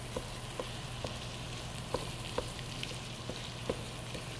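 Ground turkey sizzles steadily as it browns in a pan for butternut squash chili, a close, even frying hiss with small pops and crackles scattered throughout.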